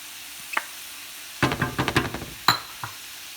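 Arugula and green onion hitting a hot pan and being stirred, a burst of sizzling with scraping utensil strokes in quick clusters, close and fairly loud between short quiet gaps, with no talking.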